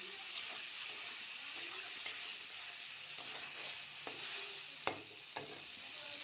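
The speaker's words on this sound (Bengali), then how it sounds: "দিয়ে দেব লবণ, দিয়ে দেব আলু, অল্প করে হলুদ দিয়ে ভালোভাবে ভাজি করে নেব।" Potatoes frying with salt and a little turmeric, a steady hiss of hot oil broken by a few sharp clinks and scrapes of a utensil in the pan, with no voices.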